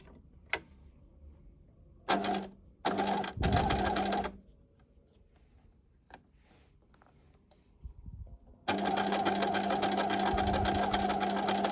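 A domestic sewing machine stitches skirt waistband pieces together in several bursts of rapid, buzzing whir separated by pauses and small handling clicks, ending in a long continuous run, close and loud with no talking.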